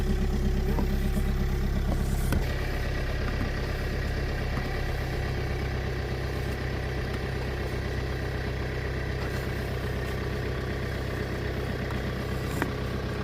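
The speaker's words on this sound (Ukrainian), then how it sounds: "Трактор завівся." A vehicle engine idles steadily just after starting, a constant low rumble with a faint clatter running for several seconds, close by and alone with no voices.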